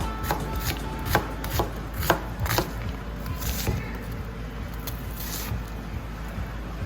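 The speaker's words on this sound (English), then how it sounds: "I gotta cut up some onion. Fresh onion." A knife chops fresh onion on a cutting board for fried rice, a string of close, sharp taps at an uneven pace over a steady background hum.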